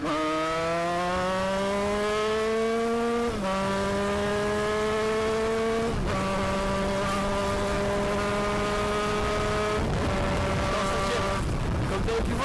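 An 80cc moped with an aluminium top end climbs through its gears, its buzzing two-stroke whine rising in pitch and dropping at each of about three shifts, loud and continuous throughout.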